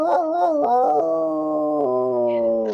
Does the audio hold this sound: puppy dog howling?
yes